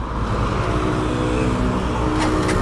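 A Bajaj Pulsar NS160 BS6 motorcycle engine turns over and settles into a steady, close idle, a continuous low mechanical hum throughout with no talking.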